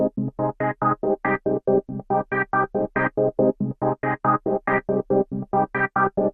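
A halftime pattern effect applied to a beat on an MPC Live 2 gives a steady, evenly chopped pulse of short tonal bursts at a moderate, slowed groove, loud and unbroken with no talking.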